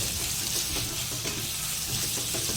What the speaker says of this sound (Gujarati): ત્યારબાદ આપણે ગાજર ઉમેરી દઈશું અને સારી રીતે સોતે કરી લઈશું બંનેને